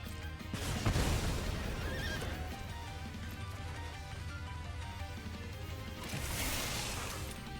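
A ghostly horse in the video game Brawl Stars lets out a loud whinnying neigh, with game effects and hoofbeat-like thuds beneath and a second neigh rising near the end.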